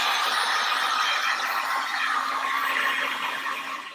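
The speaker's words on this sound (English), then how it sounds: "I'm going to hit this with the heat gun just to dry it." A heat gun drying the edge of a painted beach canvas, a steady loud whooshing blower noise with a constant motor hum, unbroken and close, fading slightly at the end.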